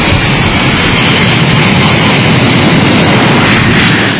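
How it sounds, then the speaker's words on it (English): Antonov An-225, the world's largest cargo plane, on final approach to land at Perth Airport: a loud, continuous broadband jet engine roar that holds steady throughout with no talk. "the Antonov 225 on final approach to Perth Airport"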